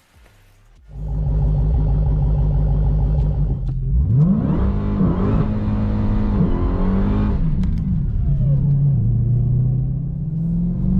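A 2020 Dodge Challenger Hellcat Redeye widebody rated at 797 horsepower idles with a deep rumble, then roars loudly up through rising revs and gear changes as it pulls away hard, a sustained near engine sound with no talk.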